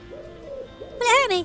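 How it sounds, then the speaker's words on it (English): A pigeon's soft cooing call rises over quiet background chatter, a short throaty phrase repeated twice near the end. "No, it's only a pigeon."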